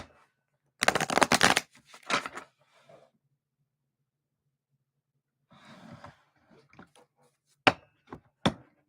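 A tarot deck is shuffled in several separate bursts: a long riffle at first, a shorter one after it, then a softer shuffle after a pause, and finally a few quick crisp flicks of the cards.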